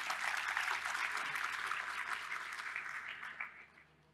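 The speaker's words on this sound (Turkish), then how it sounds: "Alkışlar kendisi için." An audience at a satellite technology week panel applauds, a dense spread of clapping that starts full and gradually thins and fades over a few seconds, heard at a moderate distance with no voices.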